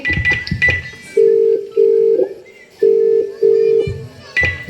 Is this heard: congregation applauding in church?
no